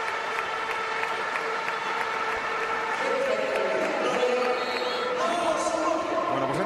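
A stadium crowd at the Bernabéu gives a sustained ovation during a Real Madrid Legends vs AC Milan Legends match as Maldini is substituted. It is a broad, continuous wash of applause and crowd noise that swells slightly toward the end.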